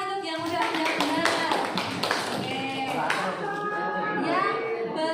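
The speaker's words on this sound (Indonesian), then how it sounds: "beri tepuk tangan untuk yang udah benar" Students clapping in a classroom, a short burst of hand claps mixed with children's voices and an adult talking over it, fairly close and moderately loud.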